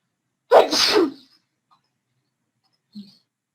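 A single loud, close sneeze bursts out with a sharp breathy explosion and trailing rasp, followed by silence and a faint small sound from the same person about two seconds later, indoors during a biology class.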